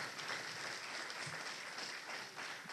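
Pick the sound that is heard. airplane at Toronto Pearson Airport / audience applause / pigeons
audience applause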